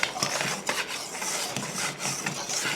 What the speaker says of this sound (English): Definitely whisk it now